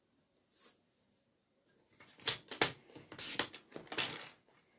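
Paper trimmer blade slicing cardstock for a posies card, a series of sharp, close rasping strokes and clicks after a quiet start, several short bursts in quick succession.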